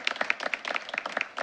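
Applause from the audience at a school board meeting, rapid close hand claps in a steady patter, fairly faint and heard without talk.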